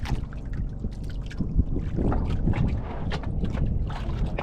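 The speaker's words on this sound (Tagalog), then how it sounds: "Bangka, may bangka." A motor boat drones steadily on open water during a fishing trip, a continuous low rumble with some wind noise against the microphone and no talk.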